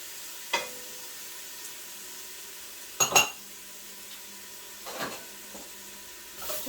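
Beef and onions frying in a lightly oiled pan, with a faint steady sizzle, a few sharp clinks and scrapes of a utensil against the pan, and no talking.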